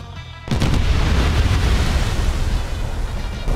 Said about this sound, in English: Looks like the USS Hampton just had a fatal magazine explosion